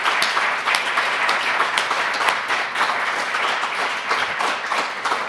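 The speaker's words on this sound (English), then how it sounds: "Let's all give them a round of applause" Sustained audience applause at a social sciences capstone lecture, dense and even clapping filling the room throughout.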